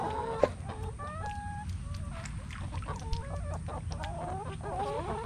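Hens cluck and murmur in short, overlapping calls over a steady low rumble, close by and fairly continuous.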